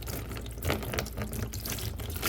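A brass item is rinsed under running water, a steady close splashing with uneven bursts as the water washes over it.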